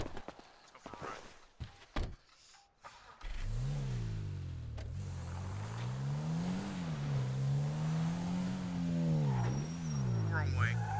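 A Declasse Asea car in GTA V starts up after some clicks and handling noises, then drives with a steady engine drone that rises and falls as it revs, close and continuous.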